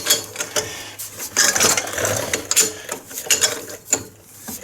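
A socket ratchet clicks as it turns a rear shock bolt on a GMC Acadia, Terrain or Chevrolet Equinox, giving bursts of close, sharp mechanical clicking with short pauses between strokes.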